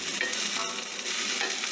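Radishes sizzle steadily in a frying pan as they are stirred, a dense continuous fry close up with no voices.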